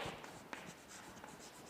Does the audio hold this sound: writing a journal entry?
yes